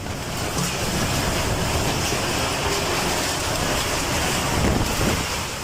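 Tornado wind roars in a dense, unbroken rush, loud and steady throughout with slight surges near the end and no voices.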